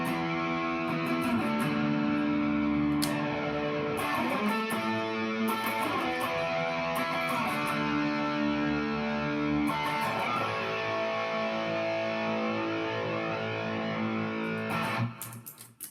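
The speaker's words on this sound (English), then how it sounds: "add the gain pedals in and get some nice sweeping, swishy, that's a good word, swishy kind of chord tones as well." An electric guitar plays sustained, sweeping chords through Helix gain and fuzz pedals, producing a distorted, swishy tone that rings continuously and changes chord every couple of seconds before fading at the end.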